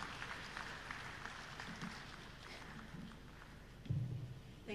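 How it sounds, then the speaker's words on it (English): Audience applause at an African coffee summit, a steady wash of clapping from a seated crowd throughout, with a louder burst near the end. "Can we have another round of applause, please, for Vumilia and that great presentation with so much data"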